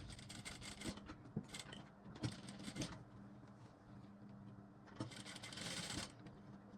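A sewing machine stitches a long garba-style blouse, running in several short bursts of rapid clattering stitches separated by pauses, close and clear, with a faint hum between runs.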